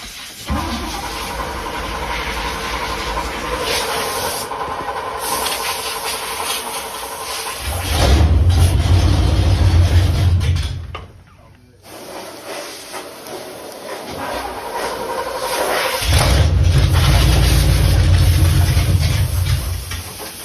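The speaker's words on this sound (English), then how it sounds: "now we're going to see if she'll crank and run" An old Chevy squarebody truck's engine cranks and then runs, with rough bursts of low rumbling separated by a brief drop and a steady hiss throughout, loud and close.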